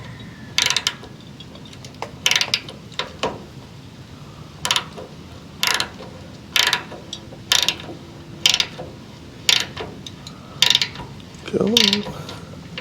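A ratchet wrench tightens a bolt on a rollover valve on a Jeep CJ5, giving bursts of quick metallic clicking strokes in a steady rhythm, close and clear, with a brief muttered word near the end.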